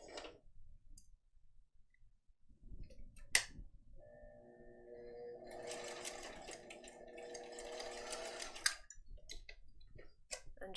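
A sewing machine stitches across a zippered confetti case in a short, quiet burst of rapid mechanical whirring, preceded by scattered clicks and handling of fabric and clips.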